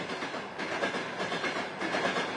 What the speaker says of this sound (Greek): Ναι, είναι το τρένο.